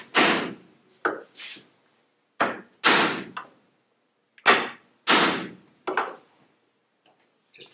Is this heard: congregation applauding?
no